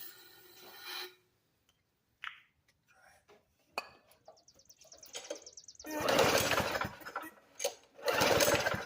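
A Murray 450 series push mower primed with starter fluid fails to start: a mostly quiet stretch of small knocks gives way to a few loud, rough bursts of cranking that never catch.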